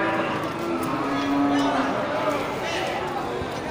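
An Aceh cow, a cull beef-breed female, lows at a cattle market, the moo rising and holding briefly amid steady background chatter and livestock noise.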